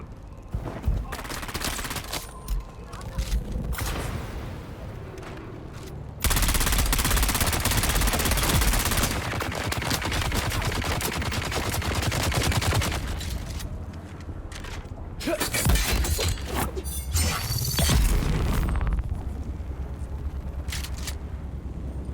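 Sniper rifle shots ring out in the video game Dune: Awakening, a dense run of loud repeated cracks and blasts filling the clip with a busy battle din, heavier after the first few seconds, and a voice talking at times beneath the gunfire.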